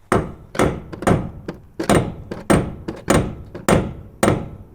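Metal hammer blows on a corroded, seized fulcrum bolt in the upper wishbone of a Jaguar XKR/XK8, nine sharp ringing strikes at a steady rhythm, close and loud with no talking.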